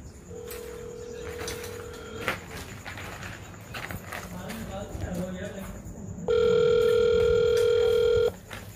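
An outgoing mobile call to someone in California rings out: two long, steady ringback tones separated by a pause of several seconds, heard over faint background noise and movement.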